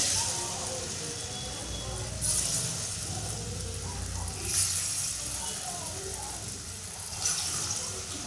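Pieces of potol, pointed gourd, frying in hot white oil make a constant hissing sizzle, close and even, with a few brief louder spatters along the way.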